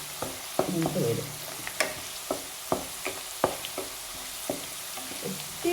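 Garlic fries and is stirred in a pan while making rose apple pickle: a steady low sizzle with intermittent scraping strokes of the spoon at an irregular rhythm, close by and with no talking.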